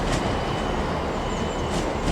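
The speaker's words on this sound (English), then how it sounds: "there goes 17412 with the 12:48 Scotrail service to Glenrothes with Thornton" Scotrail train 17412 departing Edinburgh Waverley station, a dense continuous rolling rumble of wheels on rails with faint squeals, close and steady for the whole stretch, with no talking.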